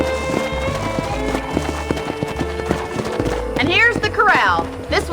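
Horse hooves clip-clop in a steady trotting rhythm at a corral in the video game Red Dead Redemption, followed by a loud whinny near the end, with talk underneath.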